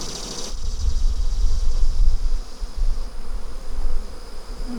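Honeybees in an opened beehive hum and buzz steadily at close range, a dense swarm drone with a brief louder burst at the start, the colony agitated by the intrusion.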